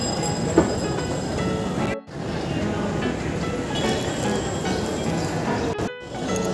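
A metro train runs at Sealdah metro station with a loud, steady rumble and rattle of wheels and carriages, briefly cut by a couple of short gaps near the end.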